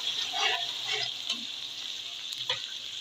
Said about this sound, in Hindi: यह हम डालेंगे, इसके बाद हम इसको थोड़ा भूनेंगे